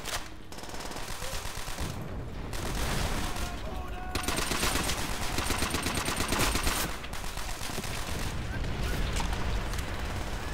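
Sustained automatic gunfire and explosions from a Call of Duty: World at War co-op battle, a dense continuous barrage of machine gun bursts filling the whole stretch with players talking over it.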